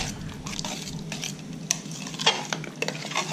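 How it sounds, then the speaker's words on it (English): Herbs stirred into a pot of homemade spaghetti sauce, a spoon scraping and knocking against the pot in soft, uneven strokes over a low simmering background, with no talking. "And we'll stir it all in."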